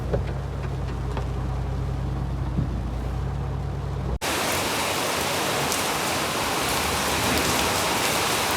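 Heavy rain pours outdoors near a flooded riverside in Pune as a dense, loud, steady wash of noise, following a quieter stretch with a low hum before an abrupt switch.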